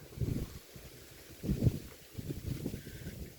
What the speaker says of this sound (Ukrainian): Сумасшедший вітер.